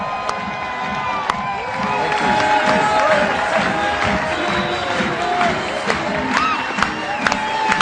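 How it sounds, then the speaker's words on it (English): A large seminar audience cheers and whoops loudly and continuously, with scattered shouts rising above a dense roar. "So please help me give a huge round of applause"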